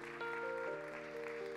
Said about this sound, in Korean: 이분들 따뜻한 박수로 축복합시다.